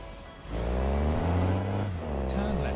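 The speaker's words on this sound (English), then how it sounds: "I do like the engine sound, though." A heavy truck's engine hauls a heavy cargo load in a trucking video game, giving a steady, deep droning hum that holds for several seconds with a slight rising whine near the end.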